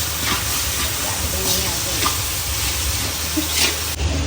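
Chopped tomatoes go into mag pulav frying in a pan, bringing a loud, close, continuous sizzle with brief scraping bursts from stirring.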